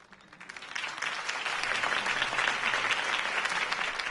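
Crowd applause for Harvey Dent's campaign speech in Batman: The Telltale Series, a steady wash of many clapping hands that swells in the first second and then holds loud and dense.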